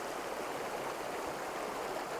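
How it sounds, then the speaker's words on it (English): Steady river water rushing past stepping stones across the river, a continuous broadband wash close by with no talk. "using the stepping stones and the water rushing through in the foreground"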